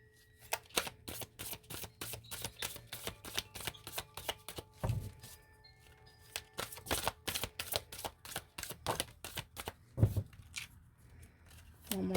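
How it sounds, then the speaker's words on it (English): Crisp riffling bursts of a deck of cards being shuffled, repeated several times in quick flutters with short pauses, close and clear. "One more shuffle through."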